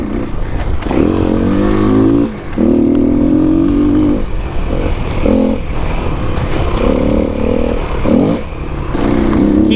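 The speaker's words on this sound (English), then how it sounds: "Keep the revs up" A 2021 Kawasaki KLX300 dirt bike riding off-road, its engine loud and close, revving up and down repeatedly in short bursts with clattering and knocks from rough terrain.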